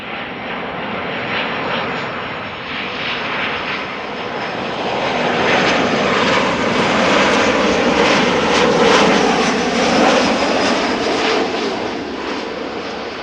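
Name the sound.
Boeing 737-700 airliner arriving from Geneva at Schiphol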